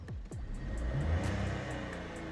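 A 1-litre turbo car engine idles steadily with a low, smooth hum, and a few brief higher whooshes pass at the start.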